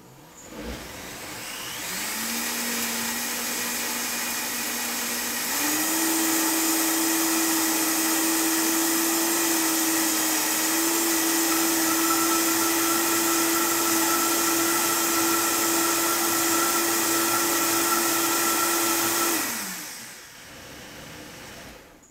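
A blender whirls a strawberry and greens smoothie, its motor whining up, stepping higher in pitch after a few seconds, then holding a loud steady drone before spinning down near the end.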